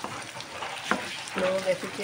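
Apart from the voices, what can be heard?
ginger frying while being stirred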